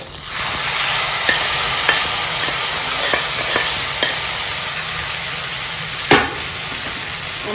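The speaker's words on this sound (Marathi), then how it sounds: "आता हा तडका आपण आपल्या खिचडीवरती टाकूया" A hot tadka of cashews and curry leaves poured over khichdi, a loud continuous sizzle and hiss with a few faint clicks and a sharp burst near the end, close up with no speech.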